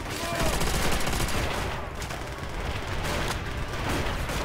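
Sustained gunfire from the Call of Duty: World at War level Their Land, Their Blood on Veteran, a dense, steady clatter of rifle and machine-gun shots running the whole time with a faint voice underneath.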